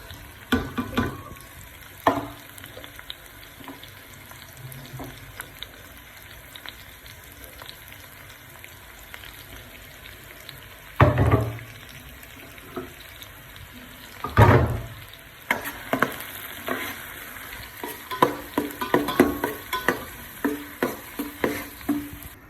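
Carrots, onion and frozen liver cooking together in a pan, a steady soft sizzle under scraping stirs, two loud thumping clatters partway through, then busier clinking and stirring toward the end.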